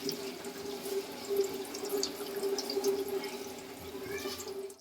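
Poha is rinsed under running water at a sink. Water splashes and trickles softly at an even pace, and a few faint sounds of handling can be heard underneath.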